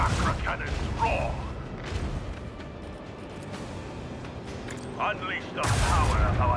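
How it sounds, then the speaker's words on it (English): Heavy booming macro cannon fire in the video game Warhammer 40k Rogue Trader rolls in repeated blasts, with loud crashes and rumbling mechanical noise layered under a voice speaking. "I want to hear the macro cannons roar."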